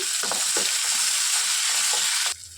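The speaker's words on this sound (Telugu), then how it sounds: "ఇందులో ఒక టేబుల్ స్పూన్ వరకు అల్లం వెల్లుల్లి పేస్ట్ వేసుకొని పచ్చి వాసన పోయేంత వరకు బాగా ఫ్రై చేసుకోవాలి" Ginger garlic paste frying with onions in a pan, giving a loud, steady sizzle throughout with a few scraping stirs, cutting off abruptly near the end.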